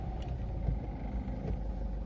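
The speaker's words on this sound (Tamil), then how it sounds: "ஸோ ஃபஸ்ட்டு கார் ஸ்டார்ட் பண்ணிக்கலாம்." A car engine rumbles low and steady nearby, running at an even idle with faint knocks throughout, and no talk.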